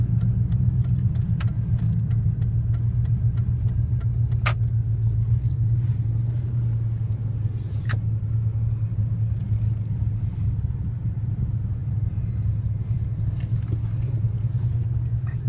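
A car engine idles steadily in gear with fast idle on, a low, continuous rumble, a few faint clicks over it, no voices.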